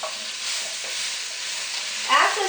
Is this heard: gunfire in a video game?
no